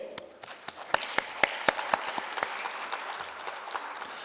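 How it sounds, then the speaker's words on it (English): Crowd applause at a dental healthcare conference honoring the hosts, a voice-of-healthcare group and National Cheng Kung University Hospital; sharp individual claps stand out over a steady wash of clapping that builds then thins. "give a massive round of applause to give a Voice of Healthcare and the National Cheng Kung University Hospital again"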